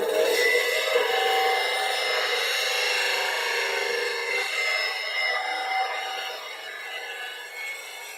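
A dull woodturning tool is sharpened with a steady, close grinding hiss that carries on throughout and fades slightly toward the end, with no talking.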